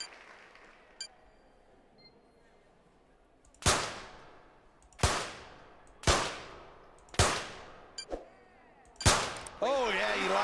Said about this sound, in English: Here we go then with round one of the 25-meter rapid fire pistol.